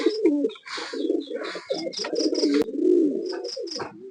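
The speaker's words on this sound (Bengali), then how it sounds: "খুব সুন্দর কোয়ালিটির কবুতর দেখেন" Pakistani breeding pigeons, a 'dabla' running pair in a loft or sale pen, coo continuously with deep, throaty, rolling calls, overlapping and close, with faint higher chirps from other birds behind them.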